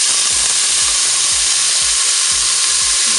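Onions sizzle loudly in hot oil in a Cookeo multicooker for ratatouille, a dense, continuous frying hiss close up, with faint rhythmic low thumps underneath and no talking.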